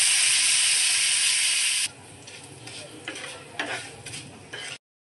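Mustard seeds and curry leaves sizzling in hot oil, a loud bright hiss at first that drops suddenly to a quieter crackle with spitting pops, close by before cutting off.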